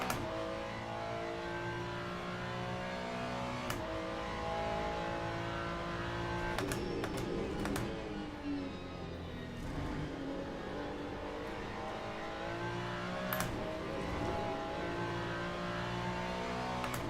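A race car engine in the Le Mans Ultimate racing game revs hard under throttle, loud and close, with pitch rising and falling through gear changes and brief sharp shifts, heard alone without talk.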